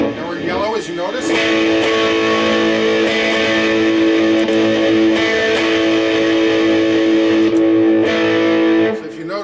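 Electric guitar played through a Marshall JVM410c amplifier on the OD1 green overdrive channel, a loud, sustained distorted chord ringing out with rich harmonics, then a few short strummed changes before it cuts off.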